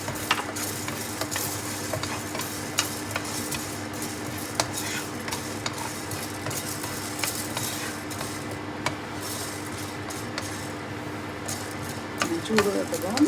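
Black pepper and cardamom dry-roasting in a pan, a steady soft rasp of stirring with scattered light scrapes and clinks of a metal spoon against the pan, close and continuous for the whole stretch.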